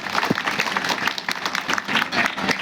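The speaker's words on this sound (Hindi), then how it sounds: "एक बार जोरदार ताली से ऐसे मंत्री का भी स्वागत होना चाहिए।" Applause from a village public meeting audience welcoming a minister: a dense, loud burst of many hands clapping, steady throughout.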